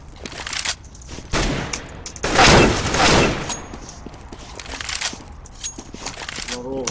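Rapid gunfire from AWP sniper and AK rifles in Counter-Strike, bursts of sharp shots with a loud cluster near the middle, mixed with game sounds and a voice talking over it.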